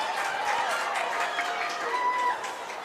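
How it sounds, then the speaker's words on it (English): A Sheffield crowd roars at a women's varsity rugby union match, a broad, sustained wash of cheering and applause that carries steadily throughout at a fairly loud level. "as you can hear from the roar of the Sheffield crowd"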